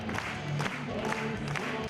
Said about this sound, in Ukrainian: Глядачі кілька хвилин стоячи аплодують